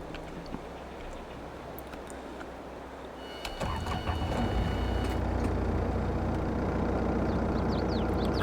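A Jacto vehicle engine in Farming Simulator 22 sits at a quiet low hum, then starts up about a third of the way through and settles into a steady, louder droning idle.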